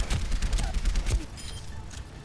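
Soldier 76 fires his rifle in Overwatch, a rapid, loud string of punchy automatic shots that stops after about a second, leaving quieter game sounds behind.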